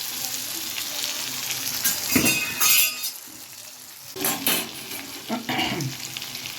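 Salted potatoes frying in a pan, a bright crackling sizzle broken by a few bursts of spatula scraping and light clinks against the metal, close and fairly loud.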